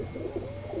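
Soft, low cooing of wild pigeons waiting on a rooftop murmurs close by in a brief, steady burble.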